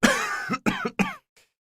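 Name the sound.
cough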